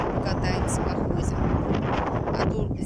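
Wind gusting steadily outdoors on a playground after rain, a constant close buffeting rush against the microphone that fills the whole stretch.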